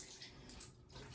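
A sponge is rinsed in lukewarm water while a saddle is cleaned with saddle soap, giving a faint, steady watery swish with no talk.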